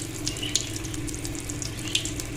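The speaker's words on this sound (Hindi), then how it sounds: "चलिए अब इनको फ्राई कर लेते हैं।" Bread cheese rolls frying in hot oil, a steady close hiss and bubble with small sharp pops and crackles scattered through it, no talking.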